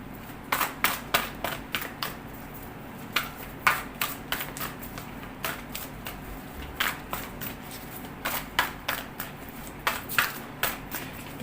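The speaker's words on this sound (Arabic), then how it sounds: "ونسمي الله ونبدا نوزع كروت" Tarot cards being dealt and laid down one after another, a series of short, crisp slaps and flicks in an uneven rhythm, close and fairly quiet, with no talking.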